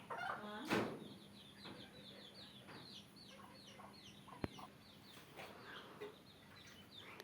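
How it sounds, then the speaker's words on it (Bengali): A mother's backyard chickens cluck in scattered soft bursts around a rural home, with a louder squawk early on and a sharp knock midway, all fairly close. "এই যে আমার মায়ের মুরগি।"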